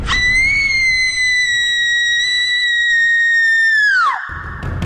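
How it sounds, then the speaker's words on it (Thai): A woman's long, high, piercing scream of terror for a Thai ghost-story audio drama, held steady at full voice for about four seconds before breaking off and dropping away sharply, loud and alone with no talk over it. "เธอก็ต้องกรีดร้องออกมาอย่างเต็มเสียง"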